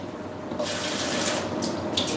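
A kitchen tap opens and water gushes steadily into a sink or container, a bright close hiss holding constant after a quieter start, without any talking.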